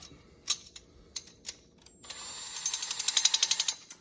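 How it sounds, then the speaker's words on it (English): A power screwdriver whirs in a few short bursts, then runs steadily while backing out the screws of a kitchen garbage disposal drain assembly. Up close and alone, with the motor pulsing as the screws loosen. "I'm going to use a power screwdriver."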